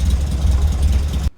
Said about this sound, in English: what we're doing is running the engine up, getting the oil nice and warm